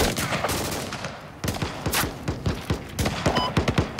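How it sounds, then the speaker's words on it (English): Rapid bursts of gunfire in the military shooter Squad, with repeated sharp shots and volleys close by and farther off, some overlapping into fusillades across the whole stretch. "Enemy fire!"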